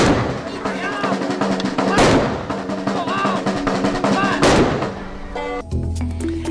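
A ceremonial firing party fires rifle volleys on command, two loud sharp blasts a couple of seconds apart that ring out over a steady background, with voices heard around them.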